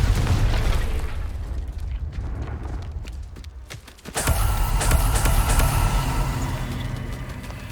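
In the Hogwarts Legacy video game, a Confringo fire spell goes off with a sudden loud burst and crackling blast halfway through, after a stretch of rumbling game ambience, and the roar lingers afterward.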